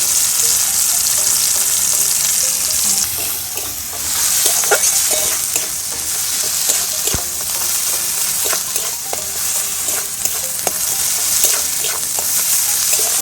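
Dried fish pieces fry with onion and tomato in hot oil, giving a steady loud sizzle with scraping stirs and small pops throughout, no voices.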